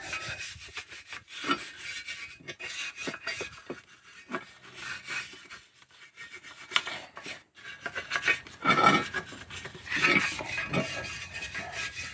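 Stiff brush scrubbing a rusty part after a dip in homemade rust remover, a steady run of close, loud rasping strokes over about twelve seconds with brief pauses between bursts.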